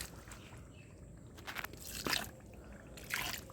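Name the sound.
watering a newly planted gerbera plant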